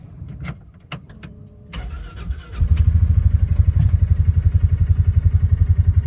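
A Polaris Ranger 570 UTV engine catches after a few clicks and clatters, then settles into a loud, steady idle with a rapid, even pulsing throb that continues to the end.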